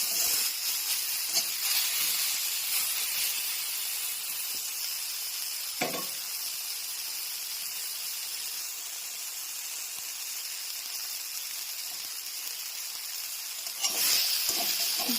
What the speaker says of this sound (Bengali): তার মধ্যে দিয়ে দেবে আগে থেকে করে রাখা সজনে পাতার বাটাটা দিয়ে আলতোভাবে ভালোভাবে নেড়ে ছেড়ে